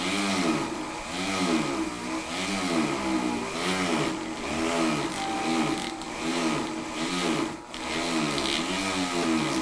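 A small engine powering a drill on a steam wagon runs steadily under load, its pitch wavering rhythmically as it works, loud and close, with no talking.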